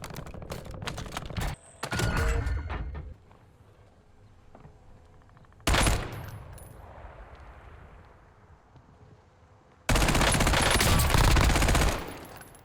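Bursts of rapid automatic gunfire in Call of Duty: Warzone, loud dense volleys separated by quieter stretches with scattered shots and effects.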